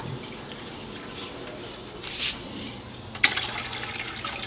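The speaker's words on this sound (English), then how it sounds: "we're just going to fill it up with some of the tank water that they're going to be going into." Fish tank water being poured into a half-filled 5-gallon bucket, faint dripping and trickling, then a louder splash and running water toward the end.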